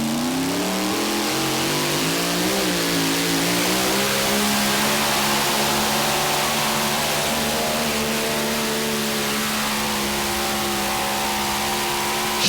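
A mini rod drag car with a Noonan engine roars continuously and loudly down a straight drag strip, its revving pitch climbing and holding steady throughout with no speech over it.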